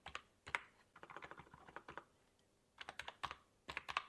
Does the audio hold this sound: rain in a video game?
no